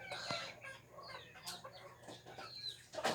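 Several chickens cluck and murmur close by in a continuous, busy chatter, with no talking.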